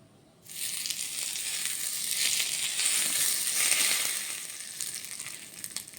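A small Kannada-style tempering of curry leaves, chana dal and urad dal bursts into a loud, steady frying hiss in a pan, rising sharply and holding close before easing slightly.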